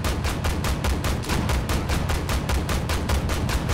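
Rapid automatic tank gunfire in the Armored Warfare video game, a loud, steady stream of evenly spaced shots hammering for several seconds with no voice over it.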